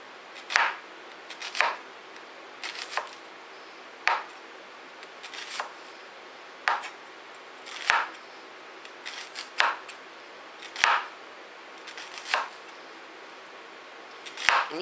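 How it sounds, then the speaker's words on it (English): A knife slices red onions thin on a cutting board, giving about a dozen crisp, close chopping strokes at an uneven but steady pace, with quiet pauses between them. "I'm slicing these onions as small as I can"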